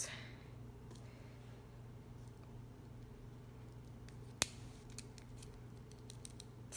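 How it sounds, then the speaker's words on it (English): Sharp scissors cut through a piece of material, giving a quiet snip set against a low steady background hum, with one crisp click and a few faint scratches along the way. "We're gonna cut it down to size with these sharp scissors"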